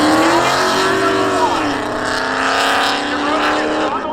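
Race cars at a Seekonk Speedway spectator drag race, including a 1984 Chevy Camaro, engines roaring loud and close with rising and shifting pitch, under an announcer's continuous commentary.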